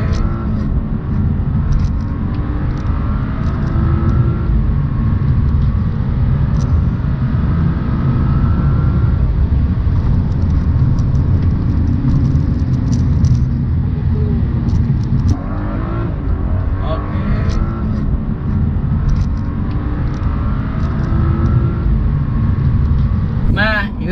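BMW 335i with a six-cylinder engine accelerating hard on kick down from about 30, a loud, sustained engine roar that builds throughout, with a voice talking over it.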